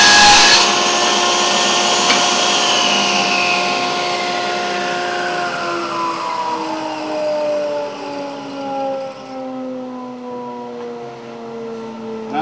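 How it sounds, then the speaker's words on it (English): A table saw spins down after cutting wood in a woodworking shop, its loud whine holding for a moment and then sliding steadily lower in pitch as the blade coasts to a stop, with no one speaking. "What I'm going to do when I use the table saw, I want your eye protection on and your ear protection"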